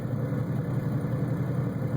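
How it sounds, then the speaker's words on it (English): A 1975 Pontiac Firebird Trans Am idles close by with a steady low rumble, its worn engine pulleys squeaking in a thin continuous high whine above the engine, with no talk. "Now I would recommend replacing the pulleys on the motor because they are squeaking."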